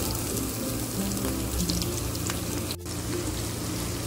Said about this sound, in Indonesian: Akan saya tumis cabai merah, bawang putih yang saya cincang,